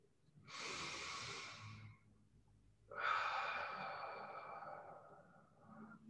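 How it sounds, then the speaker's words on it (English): A person takes a deep breath during a stretching session, a close airy inhale followed after a short pause by a longer, fuller exhale, with no talking. "Take a breath."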